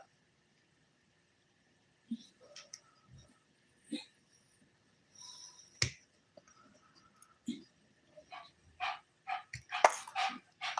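Dogs bark indoors on a hot day: sparse, quiet yaps at first, then a quicker cluster of sharper barks building toward the end, with no speech over them.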